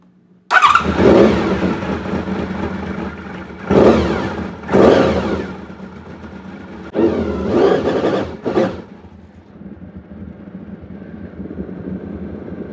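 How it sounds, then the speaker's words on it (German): A Honda VFR750 motorcycle engine starts and idles to warm up, with a few louder bursts of revving early on before settling into a steady, even idle, close and fairly loud with no talking. "Das Wichtigste also, Bike warm laufen lassen."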